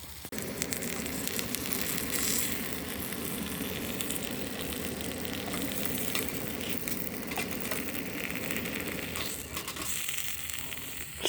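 Canadian bacon frying outdoors in a backyard, a steady, dense sizzle and crackle that holds at an even level throughout with no voices.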